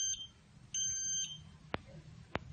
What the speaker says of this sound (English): So the buzzer beeps if distance is less than 10 centimeter